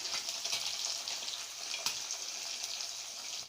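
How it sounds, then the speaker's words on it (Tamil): Chicken pieces for a pepper chicken fry crackle in hot oil in a pan, a steady, close hiss that runs evenly and then cuts off abruptly at the end. "இப்போ பீஸ் எல்லாம் போட்டுட்டு ஃப்ரை பண்ணிக்கணும்."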